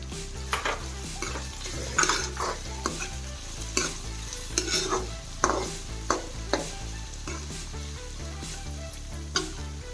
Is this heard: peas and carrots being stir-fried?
yes